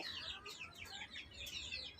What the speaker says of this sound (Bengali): মুরগিগুলো সব ছেড়ে দেওয়া হয়েছে আর মুরগিগুলো খেলছে